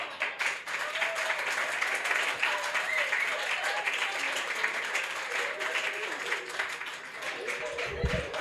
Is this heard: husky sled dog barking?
no